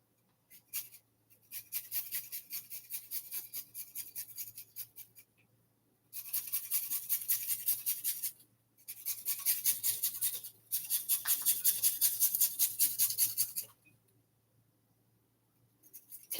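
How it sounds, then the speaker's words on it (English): Two small organic carrots being shredded on a grater for a cabbage dish, with repeated bursts of rapid, close rasping scrapes separated by brief pauses and no talking. "now I'm going to be shredding 2 organic carrots in this"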